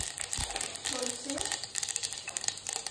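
Mustard seeds crackle and pop in hot oil for a dhokla tempering, a close, busy stream of sharp little snaps with a voice talking over part of it.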